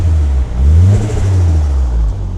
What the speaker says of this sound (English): You can hear that aftermarket blow off valve fluttering the turbo.